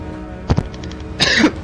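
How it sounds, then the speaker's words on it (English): A person gives two quick rough coughs, then after a short pause a longer harsh throat-clearing cough, close and fairly loud against a quiet room hum. "I'm not on mic because I keep coughing"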